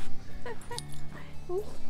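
A dog whimpers with a brief high whine near the end, heard close among people talking.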